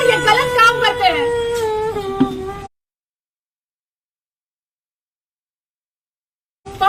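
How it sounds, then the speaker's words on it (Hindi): A young girl cries and wails in a long, tremulous moaning voice for a few seconds, then the sound cuts to silence before briefly resuming. "बच्ची रो रही है"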